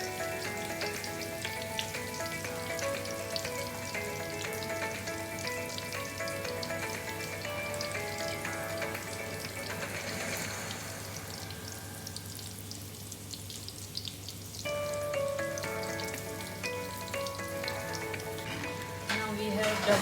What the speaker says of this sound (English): Double frying the toast.